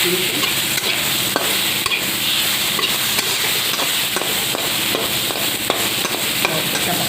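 Nigella seeds and ginger fry in hot oil with a constant close sizzle, while a utensil scrapes and taps against the pan in quick, uneven stirring strokes.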